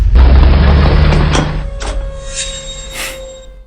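A heavy tank cannon blast booms loudly, then rumbles and fades away over a few seconds.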